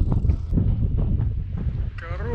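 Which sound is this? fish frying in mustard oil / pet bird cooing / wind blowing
wind blowing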